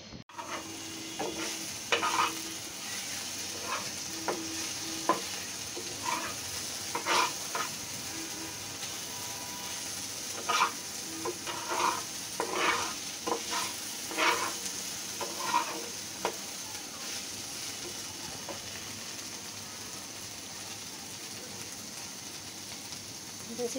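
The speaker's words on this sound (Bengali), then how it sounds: "শুধু এই যে ঢেঁড়স ভাজি করবো।" Okra frying in a pan, a steady low sizzle with frequent irregular scrapes and taps of a spatula stirring it, close and fairly quiet throughout.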